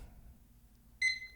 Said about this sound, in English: it only beeps like every 2 or 3 seconds